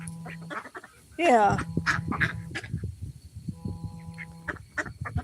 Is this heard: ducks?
yes